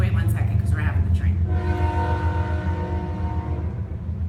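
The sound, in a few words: train passing with horn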